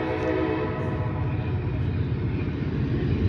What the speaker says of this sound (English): it's a 2-engine train